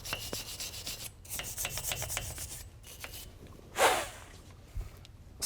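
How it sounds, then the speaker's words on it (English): Wire brush scrubbing dirt and debris off the rear axle flange of a 2017 RAM 2500 truck, a series of close, rough rasping strokes in bursts with brief pauses and one louder scrape near the end. "make sure you take a wire brush and remove any dirt or debris that may be on the axle flange."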